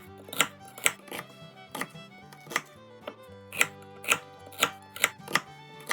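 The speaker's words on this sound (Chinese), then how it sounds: "一个洋葱切片" An onion being sliced with a knife on a cutting board, about a dozen crisp, close chops coming at an uneven but steady pace, with no voices.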